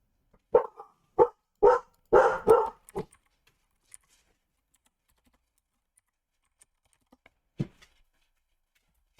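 A dog barks close and loud in a quick run of five or six sharp barks, then falls quiet apart from one last isolated bark after a long pause.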